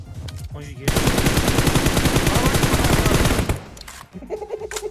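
Automatic gunfire in PUBG Mobile, a loud, close, rapid-fire burst lasting several seconds before cutting off abruptly, with voices talking briefly around it.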